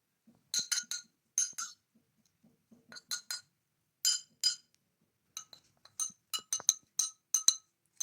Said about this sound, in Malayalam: ഇനി നമുക്ക് ഓനിയൻ ഇളക്കി കൊടുക്കാം